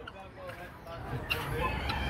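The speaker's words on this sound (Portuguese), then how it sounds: "Aqui nós chamamos capote, mas fora é conhecida também como galinha de Angola." Guinea fowl call at an outdoor small-animal and bird fair in Teresina, Piauí, with rough, clucking cries that rise out of a steady market din.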